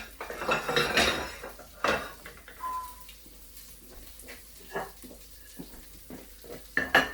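A plate being taken out in a kitchen, with loud ceramic clatter and knocks of dishes and cutlery in irregular bursts, close by, with a faint sizzle beneath.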